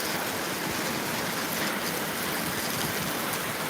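Rain pours steadily onto a home terrace, a continuous even patter and hiss of drops striking the surface up close, with no talking.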